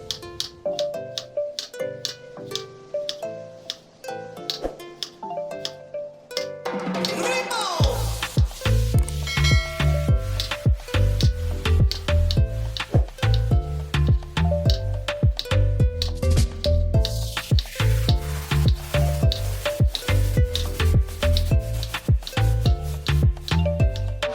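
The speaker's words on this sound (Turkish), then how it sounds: "Lahanamı ilk olarak şöyle ortadan ikiye ayırıyorum. Daha sonra doğrama işlemine başlıyorum." Red cabbage chopped on a cutting board for pickling, a steady rapid series of crisp knife strikes that begins after a few seconds of quieter sound and continues throughout with background music.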